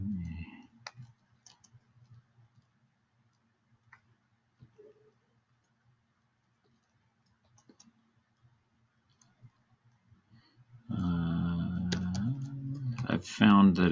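Light, sparse clicks of computer keys tapped slowly on a Dvorak-layout keyboard, with irregular pauses between presses, followed by a person talking over the last few seconds.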